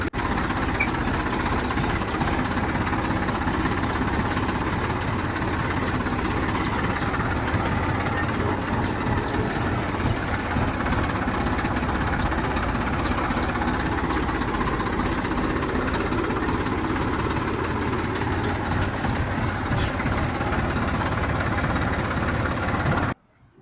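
A tractor engine runs continuously on a rough, muddy road, a steady droning rumble held at an even loudness for over twenty seconds before cutting off abruptly.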